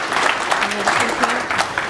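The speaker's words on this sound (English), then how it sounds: "they deserve a little round of applause" An audience at a youth health and wellbeing forum claps for the organisers, a brief, fairly loud burst of crowd applause with a voice speaking over it.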